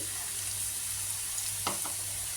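Onions and curry leaves sautéing in a pan for a fresh broad bean stir-fry, giving a steady soft sizzle with a couple of brief stirring scrapes near the end, close and fairly quiet, no talking.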